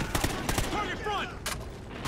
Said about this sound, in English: Taking fire, taking fire! Lay down, suppressing fire!